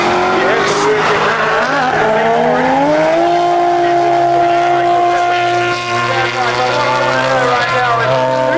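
Race car engine on a warm-up lap at the World Time Attack Challenge, a loud sustained note climbing then holding steady, with commentators talking over it throughout.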